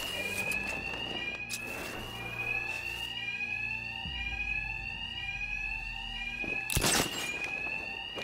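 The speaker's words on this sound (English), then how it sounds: "The attacks will be covered by the noise of the alarm." Sustained fire alarm tone blaring in Batman: Arkham Knight, a loud high electronic ring running throughout, with a low rumble, a thud and brief bursts of game noise underneath; no talking.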